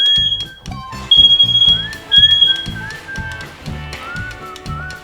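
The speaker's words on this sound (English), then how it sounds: "Hallway smoke detector fire emergency." A hallway smoke detector alarm sounds indoors, its high repeating beeps ringing over a loud, rhythmic mix of other household sounds, with no speech.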